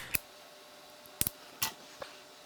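Cutters snip off wire ends on the headlight wiring of a BMW R90/6 motorcycle, giving several sharp, close clicks spaced irregularly against a quiet background.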